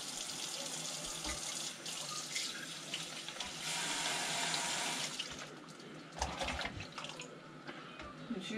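Tap water runs into a sink while market-bought vegetables still coated in soil are washed by hand, with the splashing shifting as they are rinsed and a faint voice now and then.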